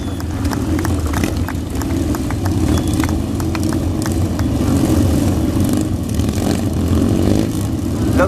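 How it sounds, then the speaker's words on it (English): Classic motorcycles ridden in the Royal Signals White Helmets display at the Great Dorset Steam Fair, engines idling and revving steadily at close range with outdoor crowd noise. "these are classic motorcycles, and sometimes they don't quite want to play with us"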